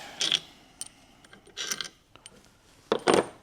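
Metal clanks and ratcheting clicks from fitting an alternator onto a junkyard engine in a 2013 Dodge Challenger, with three short bursts of tool and part noise separated by quiet gaps.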